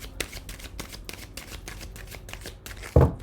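Rapid riffle shuffling of playing cards, a series of crisp fluttering bursts repeating in quick rhythm, ending with a louder thump as the deck is squared.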